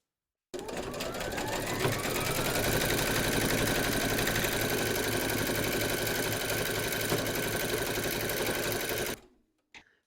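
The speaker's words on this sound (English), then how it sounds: "Pop your hoop into your machine and stitch round number 2, and that's going to stitch around here and secure the skirt to the hoop" A hooped embroidery machine runs a line of stitching to secure a fabric skirt, its rapid mechanical needle rhythm humming close and unbroken for several seconds before cutting off into quiet and a faint click.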